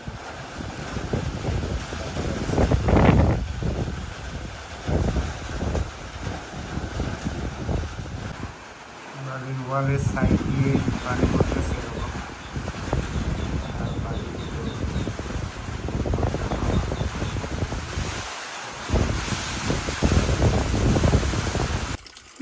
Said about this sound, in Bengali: বাহিরে দমকা হাওয়া